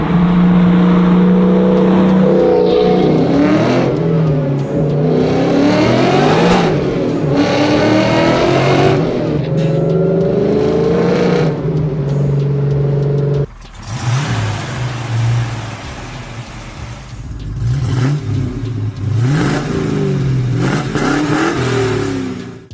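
A 1969 muscle car engine with a close-ratio gearbox revs hard and accelerates through several gears, the pitch climbing and dropping at each shift, loud and close, then a second run starts abruptly with more rising revs.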